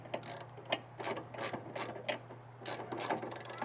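A hand ratchet snugs up the nut on an Eibach sway bar on a VB Subaru WRX, in quick bursts of rapid pawl clicks with short pauses between strokes, close up and fairly quiet.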